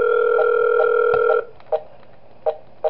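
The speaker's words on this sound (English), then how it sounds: "We get a phone call." A telephone rings for an incoming call in the horror video game Those Nights at Wario's 3, set in a basement bunker: a loud, steady electronic tone, then short repeated bursts.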